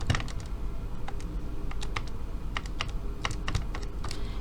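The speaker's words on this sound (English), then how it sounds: "So I type that in my calculator." Numbers are tapped into a calculator during an interest calculation. The presses come as a steady run of light, close clicks, irregular but continuous, and no one speaks.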